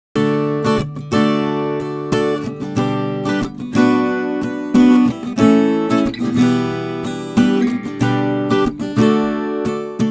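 Two strummed acoustic guitar parts played together, voiced at different intervals and octaves, loose unquantized chords in a steady rhythm, full and fairly loud with no talking.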